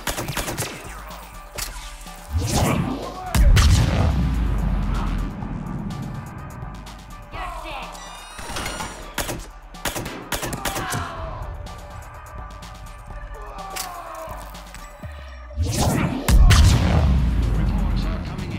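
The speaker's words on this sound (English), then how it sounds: "Reports are coming in of gunfire on the Silver Sun Strip." Gunfire in the Mass Effect Citadel DLC video game, with bursts of shots and heavy booming impacts at intervals. They sit among a dense mix of game effects and voices.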